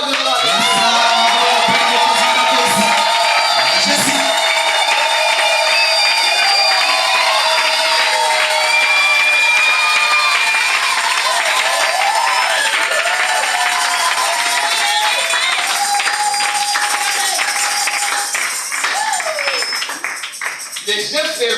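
A church congregation cheering and acclaiming during worship: a loud, sustained crowd roar of shouts, whoops and clapping that continues throughout, with voices calling out over it and easing off slightly near the end.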